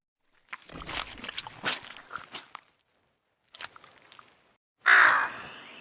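Crows caw in a winter forest, with several harsh calls in a first burst, a shorter group after a pause, then a loud, close call at the end, with nobody talking.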